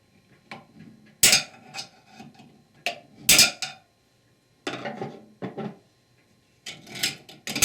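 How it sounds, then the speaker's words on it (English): A medium screwdriver prying at a Belleville spring snap ring inside a Ford E4OD/4R100 transmission gives several sharp metallic scrapes and clacks in uneven bursts, close up, with brief quiet gaps between. "We need to remove this snap ring which fastened the Belleville spring. Use a medium-sized screwdriver to pry it out."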